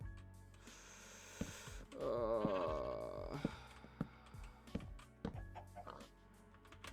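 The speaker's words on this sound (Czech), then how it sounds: "Ovce jsou důležitý, ty si musím fakt šetřit." A sheep in the game One Block bleats in short wavering calls, with scattered clicks, thumps and game sound effects around it, no talking.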